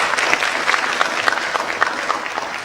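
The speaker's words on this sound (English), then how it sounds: "Let's give him a round of applause." An audience at an international AI conference gives a round of applause, dense and sustained clapping from a sizeable crowd heard close and loud throughout.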